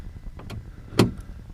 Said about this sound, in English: Well, that's a door lock.